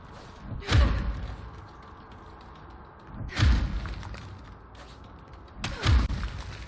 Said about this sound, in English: Only in video games does a melee attack do more damage than a bullet.